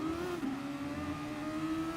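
A race car engine revs steadily in the GT Sport video game during an FIA Nations Cup race, a sustained, fairly faint drone with no talking.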